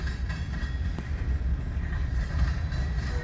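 Freight cars roll by at close range in Fremont, Nebraska, giving a heavy continuous rumble with occasional metallic clanks and wheel clicks.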